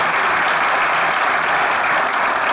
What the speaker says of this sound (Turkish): Safa'yı kostümüyle ve oyunculuğuyla alkışlıyoruz efendim.